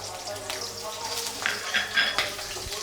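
Onion and garlic hitting hot oil in a kadai sizzle steadily and close by, with a few light clinks of a spoon and faint voices underneath.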